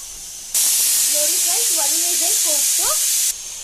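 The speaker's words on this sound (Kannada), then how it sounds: "ಈಗ ಎರಡನೇ ವಿಸಿಲ್ ಕೂಗ್ತಿದ್ದೆ ನೋಡಿ" A loud, hissing pressure-cooker whistle, the second whistle while cooking bitter gourd, blasts steadily for about three seconds, with a faint voice murmuring beneath it.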